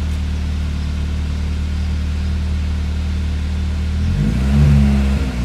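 A Renault Clio 16S engine hums steadily at idle, then rises in a short, loud rev as the throttle opens, heard close with no talking.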